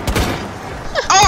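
Gunfire in the video game Rainbow Six Siege comes as a quick burst of loud, close shots, then sharp ringing impacts, all within about a second.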